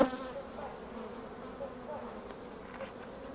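A honey bee colony at its hive, one that produces a lot of propolis, hums with a soft, continuous buzz of many bees close by, faint overall, with a brief louder sound at the very start.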